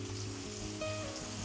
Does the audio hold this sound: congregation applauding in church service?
no